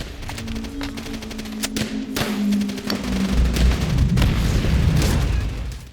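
Mortar blasts and gunfire on a World War II battlefield in Call of Duty: World at War, with sharp repeated shots and heavy booms over a continuous rumble, loud and close.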